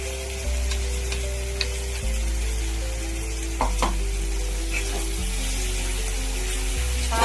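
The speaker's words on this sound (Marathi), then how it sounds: "असं परतून घ्यायचं" Cluster beans frying in peanut oil in a pan give a steady close sizzle throughout, broken by occasional spatula scrapes and a few small knocks while they are stirred, with a constant low hum underneath and no talking.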